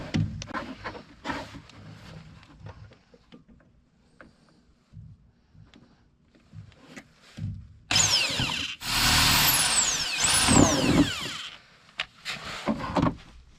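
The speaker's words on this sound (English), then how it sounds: "I then used the heat gun to form it inside the arch, and then drilled the mounting holes." A power drill bores mounting holes through the plastic inner arch liner of a Corsa VXR track car, two loud bursts of drilling close by after quieter handling and tapping noises.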